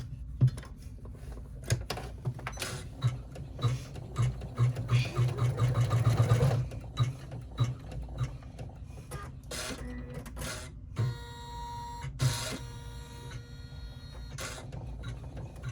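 An embroidery machine stitches the top of a wallet card slot in the hoop, a busy mechanical chatter of rapid needle strokes that swells and eases, with faint talk mixed in.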